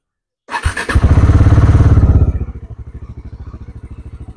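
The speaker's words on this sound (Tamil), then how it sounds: "வண்டி இப்போது ஸ்டார்ட் பண்ணலாம்." A Bajaj Dominar fuel-injected motorcycle engine with dual silencers cranks and fires up with a loud burst, revs briefly, then settles into a steady, thumping idle close by.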